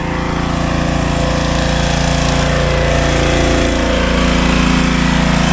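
Pressure washer blasting the facade of a Dunkin' Donuts before repainting, a steady loud engine-driven drone with constant hiss running unbroken throughout, close and without talk.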